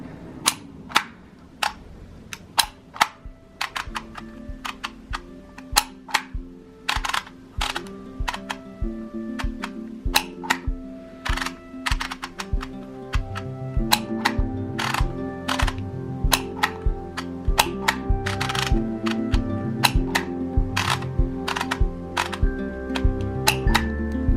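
Dymo label maker embossing letters onto tape, producing a long series of sharp, close mechanical clicks and snaps at irregular spacing, some in quick pairs, with faint handling noise between them and no talk.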